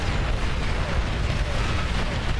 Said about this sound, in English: Boom. Massive explosions.